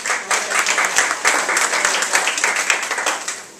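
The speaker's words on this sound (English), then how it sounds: "we can go straight to the applause and the program" Audience applause at an evening lecture, a dense, close burst of many hands clapping that carries on evenly for a few seconds and then begins to fade.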